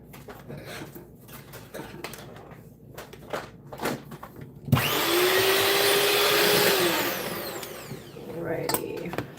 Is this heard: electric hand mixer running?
yes